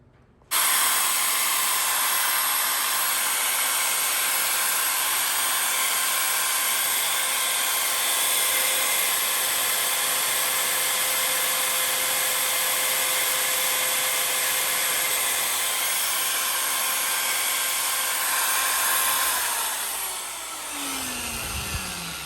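A powerful magnetic drill motor whines steadily at high speed for about twenty seconds while drilling out stuck steel lug studs, then winds down with a falling tone.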